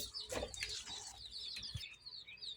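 Quail birds calling, faint high chirps and short clucking notes scattered through the clip with a brief flutter, quiet and without talk.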